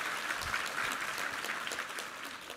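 A church congregation applauds during a Sunday worship service, a steady, dense wash of clapping from many hands held at an even level for a few seconds.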